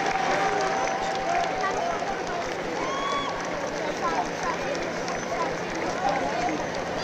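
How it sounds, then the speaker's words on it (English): Sustained applause at the award ceremony of a cricket tournament final, fairly distant and even, with a steady wash of crowd murmur running beneath the clapping throughout. "A round of applause."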